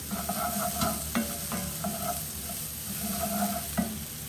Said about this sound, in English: So let that cook for a few minutes. About 3, maybe 4 minutes, keeping it stirred all the time.